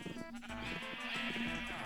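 Sheep in Minecraft bleat in the game, several clear, tonal, wavering bleats following one another at close range over quiet background, no talk.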